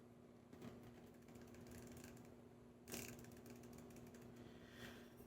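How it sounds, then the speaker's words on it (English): Precise, positive clicks from the turret of a Nikon FX1000 6-24x50 riflescope being turned: a few faint mechanical ratchet ticks over a quiet background, with one sharper, louder click near the middle. "clicks on these are positive, and you don't get, there's almost zero perceivable movement when it's in between"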